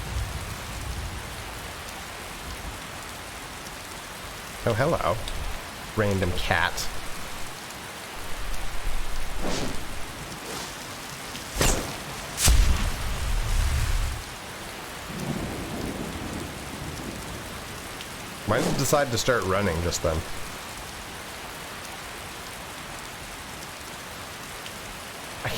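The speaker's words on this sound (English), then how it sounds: "I can't believe I gotta run all through the rain and miserable weather." Steady rain with rolling thunder in the video game Skyrim, broad hiss throughout, with several loud thunder rumbles and footsteps; someone talks over part of it.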